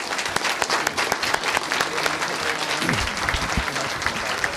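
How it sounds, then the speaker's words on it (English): A crowd at a school board meeting claps steadily, sustained applause from many hands filling the space, fairly close and even throughout. "Big round of applause."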